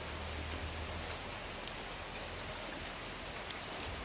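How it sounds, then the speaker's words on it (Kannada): Heavy rain pours down in a steady, dense broadband hiss that fills the whole stretch, with a few faint patters and knocks on top and no voices. "ಇವತ್ತು ಜೋರು ಮಳೆ ಬರ್ತುಂಟು"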